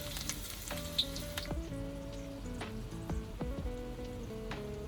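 Small onions hit hot oil in a wok, left over from frying anchovies and peanuts, as sambal for nasi lemak begins; a steady crackling sizzle runs throughout with a few sharp pops and clinks, close and fairly loud.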